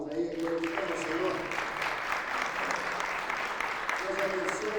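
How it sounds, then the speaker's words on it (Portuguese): A church congregation applauds in praise, a steady wash of clapping that holds through the clip, with a voice speaking over it at the start and again near the end. "Dá uma salva de palmas aí, glorificando ao Senhor."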